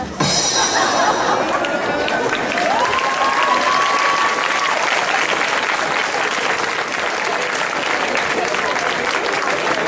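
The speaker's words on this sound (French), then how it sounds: "On les applaudit bien fort pour cette formidable blague" Crowd applause at a cosplay parade at the Animasia 2014 convention, loud and sustained for the full stretch, with a brief whistle-like tone rising through the middle and faint crowd chatter underneath.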